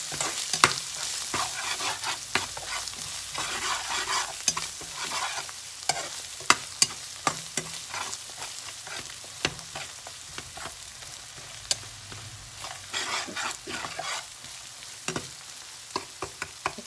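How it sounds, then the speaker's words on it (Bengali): Spices for chicken curry sizzle and fry in a pan while a utensil stirs and scrapes with frequent sharp clicks over a steady hiss, no voices present. "এখন একটু ভাজা ভাজা করে নিব আর একটু।"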